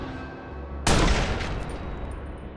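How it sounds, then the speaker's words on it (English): A single loud gunshot rings out in Watch Dogs, a sharp broadband crack that opens into a long, fading echo tail. "you know where that shot came from"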